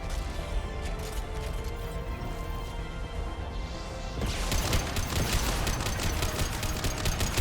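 Guns fire in the Mass Effect 2 sci-fi shooter game as a quick, loud, rattling volley of rapid shots that grows denser partway through over steady background noise.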